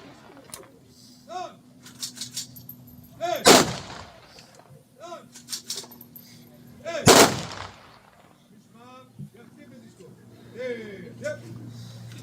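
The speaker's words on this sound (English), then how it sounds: "finally his mates in the Golani Brigade gave him a gun salute" Rifle volleys of a military gun salute fired by Golani Brigade soldiers at an ancient cemetery funeral ring out as two sharp, loud cracks several seconds apart, with people talking quietly between the shots.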